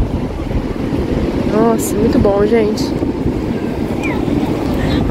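Sea waves and wind at Enseada beach in Guarujá: steady roaring surf and gusty wind noise buffet the microphone throughout, loud and continuous, while someone speaks briefly over it.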